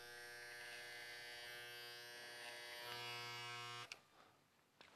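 A T-finisher hair clipper used for finishing a classic business cut buzzes steadily with a bright, tonal motor hum for about four seconds, close and quiet, then cuts off abruptly into near silence.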